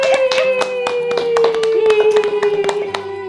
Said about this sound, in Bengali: এবার হাততালি দাও এবার হাততালি দাও